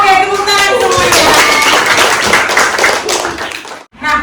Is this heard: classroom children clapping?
yes